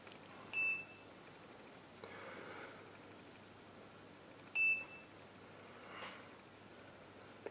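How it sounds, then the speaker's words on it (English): A baby nanny camera emits two short, faint electronic beeps during setup, spaced about four seconds apart over a quiet room hiss. "That is the beeping sound, which is an indication that now we can start the process of setting up the camera."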